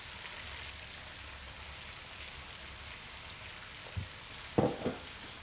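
Onions sizzle faintly in a pan for a French rabbit stew, a soft continuous frying hiss with a few louder clatters of stirring or handling near the end, and no talk.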